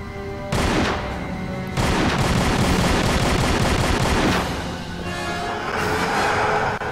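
Rapid gunshots and heavy booms from the video game Tomb Raider: Angel of Darkness, with loud sustained volleys that fade briefly and then return with more firing, with no speech.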